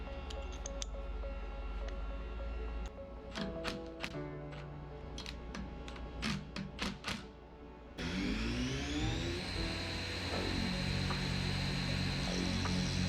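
A CNC machine runs a program on a brass part. Light taps and clicks over a low hum come first, then a steady whining tone that climbs and shifts in pitch as cutting goes on, close and continuous.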